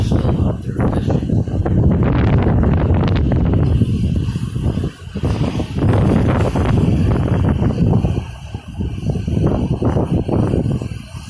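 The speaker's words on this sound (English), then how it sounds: "It's a little windy." Strong wind gusting across a beach where pelicans fish offshore, buffeting the microphone in loud rumbling waves that ease briefly between gusts, with a voice speaking partly beneath it.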